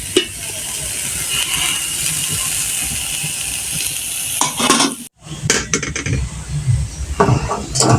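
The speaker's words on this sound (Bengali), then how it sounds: "এখানে আমি কালিজাটা ভেজে ডিমের কলিজাটা রান্না করব" Egg liver frying in hot oil in a wok gives a steady close sizzle, with scraping and stirring clatter that grows busier near the end, after a brief drop-out about halfway through.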